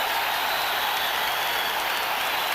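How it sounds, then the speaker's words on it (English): A boxing arena crowd stands cheering at the Evander Holyfield vs George Foreman fight, a dense, continuous roar of applause and voices at steady loudness throughout. "The crowd standing on its feet here"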